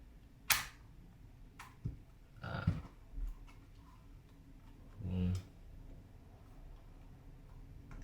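Plastic clicks and snaps as the antennas and phone clamp on a DJI Mavic Mini controller are folded, several sharp isolated ticks with a brief rubbing sound between them, close and quiet.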